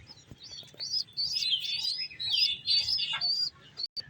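Caged pigeons with a hatchling among them give off a busy run of high, thin chirps and squeaks, close and fairly loud, nearly continuous for about three seconds before trailing off.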